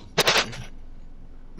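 A short, loud burst of about three rapid gunshots fires in a horror-themed video game where guns and AK rifles are picked up, then the sound drops to a low, quiet background.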